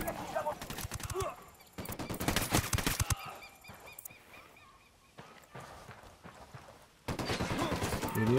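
Bursts of automatic gunfire in the video game Tom Clancy's Ghost Recon Wildlands, rapid crackling volleys separated by quieter stretches with scattered game effects, fairly loud and dense.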